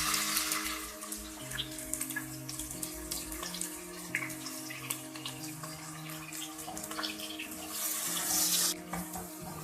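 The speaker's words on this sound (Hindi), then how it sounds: "तो अब इसमें हम डाल देंगे प्याज" Onions frying in oil in a pan while cooking a mixed vegetable dish, a steady close hiss and crackle of sizzling that continues throughout, swelling slightly near the end.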